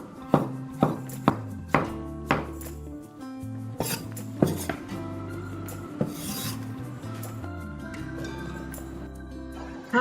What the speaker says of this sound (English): I am cutting my mango pieces small